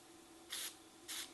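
Cleaner sprays into a NuTone IM4406 intercom room-control switch in two short, sharp hissing bursts, separated by a brief quiet pause.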